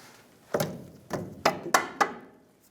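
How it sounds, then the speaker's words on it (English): A rubber mallet strikes a steel radius arm bracket on a 1992-1996 Ford F-150, five dull thumps spaced irregularly over a couple of seconds, close and fairly loud with short decays and no talking. "I just got a rubber mallet, give it a little couple taps, see if we can line it up better."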